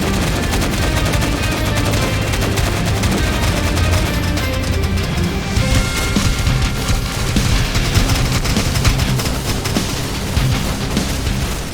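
Dense, continuous gunfire and explosions fill a chaotic Minecraft Clone Wars battle, with rapid shots overlapping loudly and without pause throughout.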